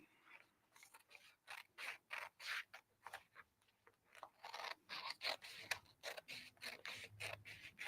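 Paper scissors snip through paper to cut out a bag template for a reversible handbag, producing a quick, steady series of close, crisp cuts with no talking.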